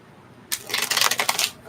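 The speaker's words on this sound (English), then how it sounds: "One more shuffle, fine. One more little shuffle." A deck of tarot cards is riffled in a quick, crisp flutter of rapid flicks after a brief quiet moment, close up.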